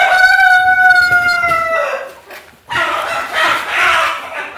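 A rooster crows loudly and close by on a farm, a long drawn-out call, then hens cluck busily for the last couple of seconds.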